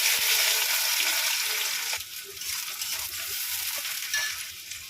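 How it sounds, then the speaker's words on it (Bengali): Chopped onions frying in hot oil with cumin seeds, a loud, steady sizzle with a few soft stirring taps, easing slightly partway through. "এবার আমি এই পেঁয়াজগুলো কেটে রেখেছিলাম ভেজে নেব"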